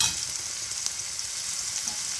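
Sugar cane herbs fry in a pan with a steady, close sizzle and crackle, with faint stirring noises underneath.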